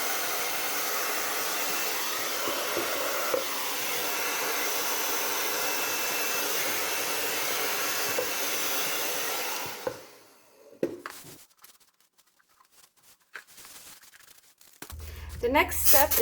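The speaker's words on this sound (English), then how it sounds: "I'm going to use my blow dryer also" A blow dryer runs steadily for about ten seconds, drying a finished fluid-art painting before it is sanded and clear coated, then cuts off, leaving faint handling noises and a brief louder burst near the end.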